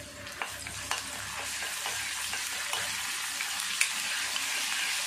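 Ginger and garlic with two dried red chillies fry in hot oil in a pan, a dense steady crackle and hiss with repeated light spatula taps and scrapes, close and alone without speech.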